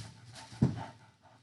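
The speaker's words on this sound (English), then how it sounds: "I have an elderly dog alert" An elderly dog whimpers once with a short whiny yelp, surrounded by soft panting breaths, close by and moderately loud in a quiet indoor room.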